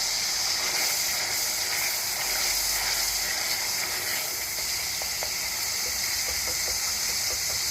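Chopped onion, garlic and ginger sizzle in a pan, a steady broad frying hiss with faint crackles and pops running throughout.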